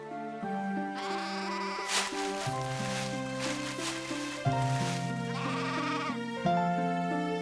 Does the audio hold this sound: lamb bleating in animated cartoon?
yes